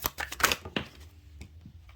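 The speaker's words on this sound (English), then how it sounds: "Let's get one more shuffle." Tarot cards being shuffled by hand, a quick flurry of close papery riffles and taps early on, then quieter scattered card sounds.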